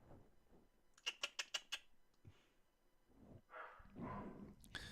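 A dog barks in a quick run of about five sharp woofs early on, fairly close, followed by indistinct voices and background movement.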